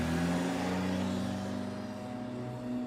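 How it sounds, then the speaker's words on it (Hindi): A car engine hums steadily, fairly faint, with a slight surge as the car revs and moves off. No voices. "गाड़ी स्टार्ट हुई और उसने बिना पीछे देखे रेस दे दी।"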